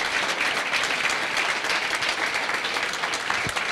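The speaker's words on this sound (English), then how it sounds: "I want to thank, give them a round of applause." Audience at a Norooz celebration at Michigan Tech applauding the dancers, a dense, steady wash of many hands clapping close by, sustained without a break.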